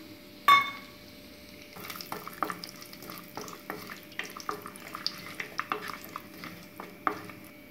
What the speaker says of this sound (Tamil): நெய் ஹீட் ஆனதும் சீரகம் கூடவே முந்திரியும் சேர்த்து வறுத்துக்கலாம்.